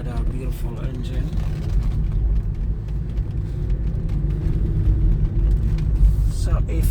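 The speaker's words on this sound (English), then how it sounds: "so we can hear that beautiful engine." Aston Martin V12 6-litre engine heard from inside the car while driving: a low, steady droning rumble with a slight rise in intensity toward the end and some faint cabin noises.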